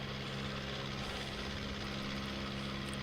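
Plane engine heard from inside the cockpit in a video game, a loud, steady droning hum with a low throbbing tone that runs unbroken, with no one talking.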